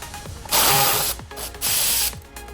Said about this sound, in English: There is a 10mm right here to take off this intake pipe.